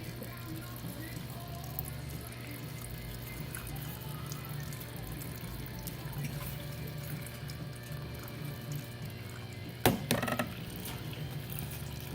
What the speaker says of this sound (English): The water flow over drains, or drains over, through that line and then into this grow bed.